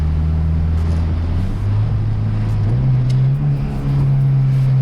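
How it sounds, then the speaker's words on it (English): A turbocharged Honda Integra DC2 with a B18C engine engine-braking, a loud steady low drone that steps downward in pitch through several stages as revs fall, heard from inside with no talk. "I just get up to a good speed and then just engine brake."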